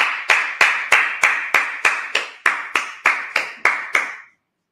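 A congregation claps in unison at a Sabbath service, about a dozen sharp, evenly spaced claps in a steady beat that stop abruptly, with no talking over them.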